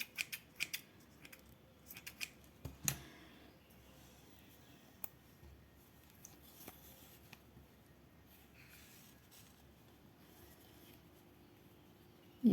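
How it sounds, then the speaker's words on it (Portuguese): Scissors snip yarn thread while finishing an amigurumi panda's nose, giving a few quiet, close clicks and snips early on, then faint handling noises in an otherwise hushed room. "Vamos cortar aqui, deixar uma ponta de linha grande para costurar."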